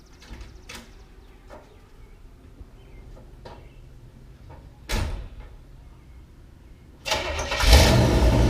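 Electric-converted 1963 Chevrolet Impala powering up after a few scattered clicks and a thump like a door, followed by a loud sustained rising hum and whine that sets in near the end, close by.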